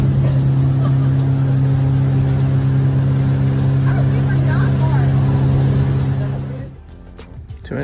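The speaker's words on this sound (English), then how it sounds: "And the boat ride back." Steady low drone of a motorboat engine with a persistent hum, loud and close throughout, cutting out near the end as the ride finishes.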